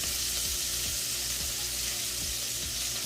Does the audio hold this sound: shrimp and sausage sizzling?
yes